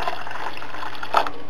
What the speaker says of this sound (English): I'm going to just put a bit more water in there.